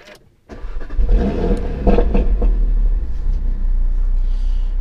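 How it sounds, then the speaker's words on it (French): A sports car engine with a supercar-like sound fires up after a brief silence, then roars and revs loudly up close before settling into a deep, steady rumbling idle. "Ça fait très voiture de course, voire supercar."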